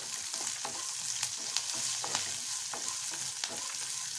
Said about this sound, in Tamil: கொஞ்சம் பூண்டு, ஒரு 3 பூண்டு, கறிவேப்பிலை எடுத்து வச்சுருக்கிறேன். அதையும் போட்டு வறுத்துக்கலாம்.